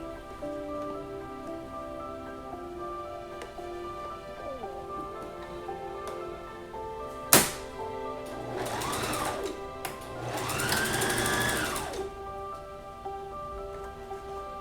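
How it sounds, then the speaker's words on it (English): A sewing machine runs a straight stitch around a homemade fabric face mask, a steady mechanical whir in short bursts of stitching, close and moderately quiet. "I'm going to sew completely around. I'm just using a straight stitch again on this."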